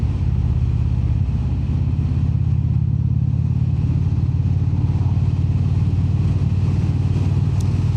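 An Indian Springfield motorcycle engine idles down off the throttle, a steady loud low throb with even rhythmic pulsing that holds throughout, alone with no talk.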